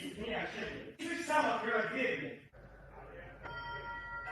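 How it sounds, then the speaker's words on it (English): A Ring doorbell chime sounds near the end, thin harmonic tones over a low hum following loud agitated talk from a man. "Who's ringing my doorbell?"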